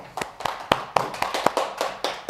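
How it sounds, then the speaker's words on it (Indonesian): Small classroom group claps hands in a loose, uneven burst of about a dozen sharp claps over two seconds, close and moderately loud, no talking. "Tepuk tangan."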